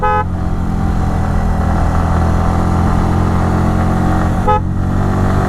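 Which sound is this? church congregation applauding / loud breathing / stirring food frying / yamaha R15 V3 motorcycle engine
yamaha R15 V3 motorcycle engine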